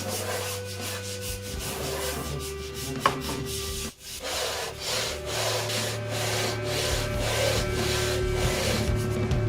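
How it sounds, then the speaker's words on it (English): Guitar wood for a classical guitar build is shaped with a hand plane and a sanding block, giving steady rhythmic rubbing and rasping strokes, close and continuous, with a brief pause midway. "I shape it to a nice curve. It's done using a plane and a sanding block."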